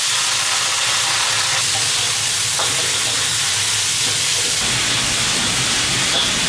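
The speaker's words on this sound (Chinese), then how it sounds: "肉下锅。" Pork belly hits a hot oiled wok for twice-cooked pork, a loud broad hiss and sizzle that holds steady and close with no talking.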